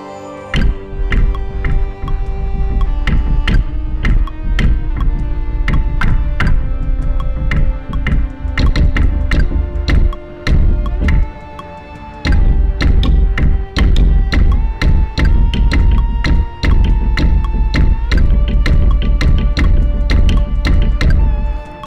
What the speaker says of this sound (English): that sound is called double bass and bow